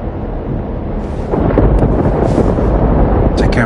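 Storm in the video game Life Is Strange Double Exposure: a loud, continuous roaring rumble with thunder-like swells and crackling bursts, building in intensity partway through.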